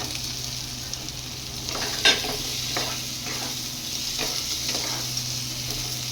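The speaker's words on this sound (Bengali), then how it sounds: "পনিরগুলো দিয়ে ভালো করে আমি আরেকটু নাড়াচাড়া দিয়ে নেবো।" Fried paneer cubes are stirred into a sizzling spice masala that has released its oil, a moderate steady sizzle with several soft scraping stirs and one sharper knock of a utensil on the pan, and no talking.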